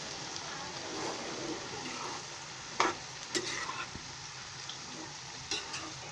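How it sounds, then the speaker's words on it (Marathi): Ghevda (flat bean) vegetable stirred while frying in a pan over lowered heat, with a steady soft sizzle and a few louder scraping spoon strokes, close and fairly quiet. "आता मी थोडा गॅस बारीक करते आणि हलवते"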